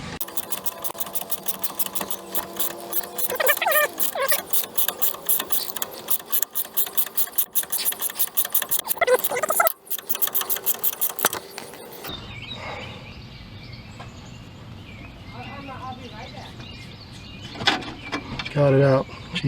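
A ratchet wrench loosens the front shock nut on a Ford F150, clicking rapidly and steadily in close bursts for several seconds before stopping, followed by quieter metallic handling and a few more clicks.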